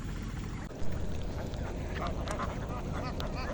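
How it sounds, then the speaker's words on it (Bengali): Twenty-four native ducks near a riverside path give a few faint, scattered quacks against a quiet, noisy outdoor background. "এখানে আপনারা জানেন যে 24টা হাঁস আছে"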